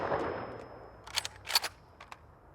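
An honor guard fires a rifle volley at a 2020 Utah law enforcement memorial for fallen peace officers: a quick cluster of cracking shots rings out outdoors at moderate distance after a quiet pause.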